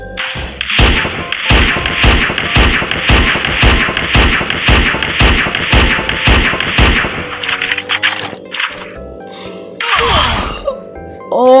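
Desert Eagle pistol gunfire in a first-person shooter game: a loud, rapid run of sharp, evenly spaced shots for about eight seconds, then a pause, a few mechanical clicks and one more burst of noise near the end.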